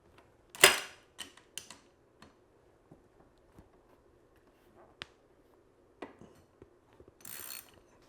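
A motorcycle rear sprocket is wrenched loose with the rear brake held on: sparse metallic clicks and ratchet-like snaps, one sharp loud knock early, then quieter scattered taps and a brief rasp near the end.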